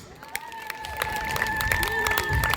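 Congregation in a church clapping together, a steady spread of hand claps that swells over a couple of seconds with a voice faintly ringing over it.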